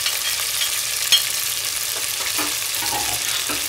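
Meat and onions fry for a Sindhi pulao as garlic ginger paste is added, giving a steady close sizzle with occasional stirring scrapes and a sharp clink from the spoon.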